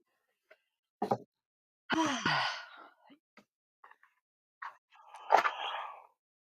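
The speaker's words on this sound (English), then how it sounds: "I don't mean to yawn at you people" A woman yawns aloud, a long drawn breath rising into a sighing, moaning exhale up close, with smaller mouth sounds and a final breathy burst afterward.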